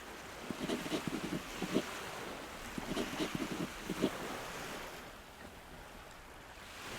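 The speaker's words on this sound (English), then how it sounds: "The small boat the thief prepared beforehand bobs gently on the water." Gentle water lapping and sloshing against a small boat on a quiet bay in the Nier Reincarnation video game, soft irregular splashes with light wind noise, fading calmer near the end.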